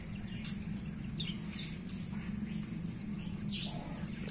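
A zebra dove with a hoarse voice gives raspy calls that repeat a few times at moderate distance over a steady low hum and some other faint bird chirps.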